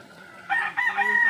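Fowl crow or cackle from a fine breeding hen kept for fighting-cock stock, a harmonic, drawn-out call starting halfway through and repeating in two close bursts, moderately loud and alone.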